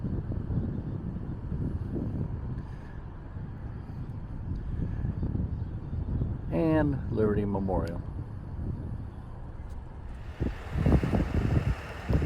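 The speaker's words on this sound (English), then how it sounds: "I know the wind is blowing like crazy out here" Strong wind buffets an outdoor microphone on a city overlook near Union Station, Crown Center and Liberty Memorial in Kansas City, a steady low rumble throughout with someone talking over it.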